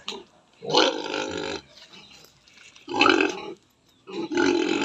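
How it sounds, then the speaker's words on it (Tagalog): Pigs grunting in a backyard pen, several deep, rough bursts about a second long separated by short pauses, close and fairly loud, with no talk over them. "Yan ang baboy niya"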